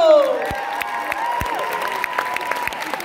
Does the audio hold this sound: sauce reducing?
no